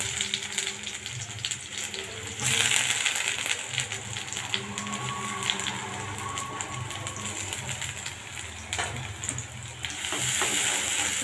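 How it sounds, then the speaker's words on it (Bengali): Chopped onions fry in oil in a wok, a steady close sizzle with occasional stirring scrapes, swelling louder in places as the pan is worked. "আমি পেঁয়াজটা একটু লাল লাল করে ভেজে নিয়ে তারপরে আদা রসুন দিয়ে দিই"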